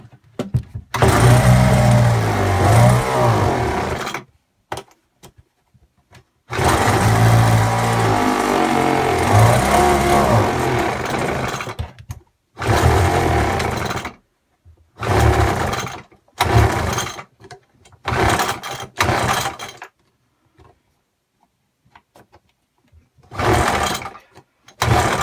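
A Stihl BG72 two-stroke leaf blower, choked and primed, is pull-started and runs in loud, close bursts that cut out and restart repeatedly, struggling to keep running, with no talking.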